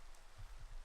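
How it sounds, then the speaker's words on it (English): Steady rain falls in the video game Minecraft, a soft, even hiss of drops with low rumble underneath, heard alone for a brief moment. "now we're gonna cut the episode to some rain"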